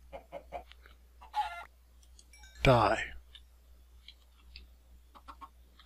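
Chickens in the video game Minecraft, heard as a few short clucks and clicks scattered among game noises, with one louder squawking burst in the middle and someone talking briefly.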